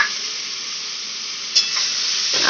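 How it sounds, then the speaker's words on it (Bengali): Constant loud sizzling of prawns and potatoes frying in a karahi, with a brief scrape of stirring partway through and no voices. "ভেজে রাখা চিংড়ি মাছ দিয়ে দেওয়া হচ্ছে"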